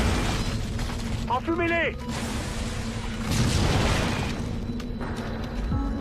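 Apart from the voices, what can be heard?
grenade explosions in the video game Halo Wars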